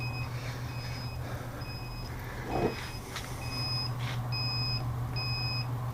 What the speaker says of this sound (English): It's on double alarm. Humidity and temperature.